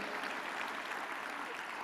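A church congregation at a Sunday service applauds in a soft, even wash of clapping that sounds distant and low in level throughout, with no clear voices.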